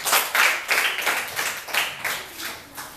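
A small group claps in uneven bursts nearby after a class debate speech, the rhythm loose and steady for a few seconds with no voices.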